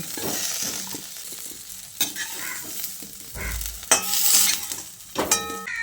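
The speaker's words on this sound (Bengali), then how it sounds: "ভেন্ডি আলুটাকে ভেজে নিয়ে এবার আমি এগুলোকে একটা পাত্রে তুলে নিচ্ছি" Okra and potatoes, already fried, are stirred in a hot pan and lifted out, giving close sizzling over scraping spatula strokes and a few sharp metallic clinks of utensil against pan.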